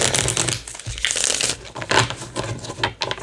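Tarot cards being shuffled by hand, a steady run of close, crisp papery riffling and crinkling for about three seconds with no talking.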